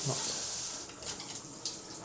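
A hotel room shower runs with strong pressure, a steady broadband hiss of spray that fades slightly toward the end as it is turned off, with no talking over it.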